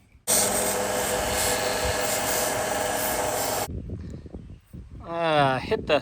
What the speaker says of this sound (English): Hit the axe head a little with the sandpaper there